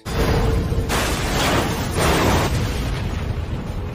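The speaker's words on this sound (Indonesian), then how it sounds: "mobil itu pun menabrak pembatas jalan yang membuatnya terbalik dan meledak" A car slams into a road barrier, flips over and explodes, giving a loud sustained roaring blast with repeated bursts of broadband rumble, close and dominant with no talking.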